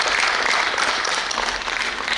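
Audience applause at a Hindu religious discourse gathering welcoming a swami, a steady dense clapping from a crowd that fills the whole short stretch at even loudness.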